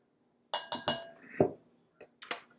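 A glass container holding baking soda being handled in a kitchen, giving a few close, crisp clinks and taps, three quick ones, then a duller knock, and a final pair of clinks after a short pause.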